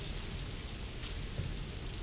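Heavy rain in the Tomb Raider video game, a dense, continuous downpour hissing evenly across the whole stretch with no breaks and a low rumbling undertone.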